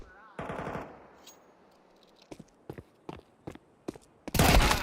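Gunfire in an ESL Impact finals esports match: a dense burst of rapid shots opens, then sparse sharp single cracks and short volleys follow, ending in a loud sustained barrage.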